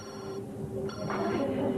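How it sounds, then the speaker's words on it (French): A mobile phone rings with repeated electronic tones in short bursts, heard over background chatter and room noise. "il y a mon portable qui sonne"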